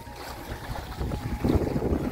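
A solo sailboat moving across open water on a calm day in light wind, with a steady rush of water and wind noise against the hull that swells slightly toward the end.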